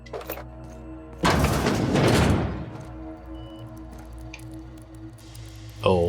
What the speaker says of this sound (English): Oh, is it just dripping?